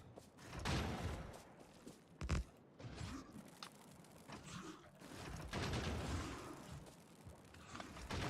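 Gunfire in the video game Factorio Space Age, bursts of clattering shots and mechanical impacts in irregular clusters, loud and close, separated by quieter gaps.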